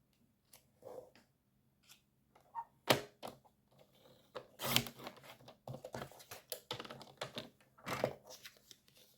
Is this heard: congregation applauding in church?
no